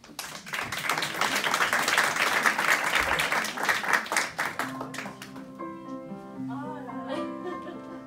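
A conference audience applauds in a hall, a dense sustained burst of clapping that swells and then thins out after about five seconds, as sustained musical tones and a few scattered claps carry on beneath.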